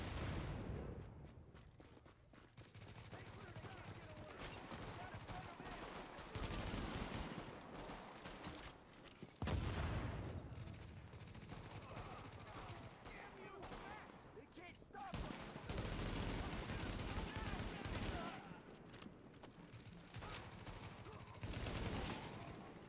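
Gunfire in the video game Tom Clancy's The Division, with sustained bursts of shots and booms rolling through a busy, continuous battle mix at low level, punctuated by a few louder hits.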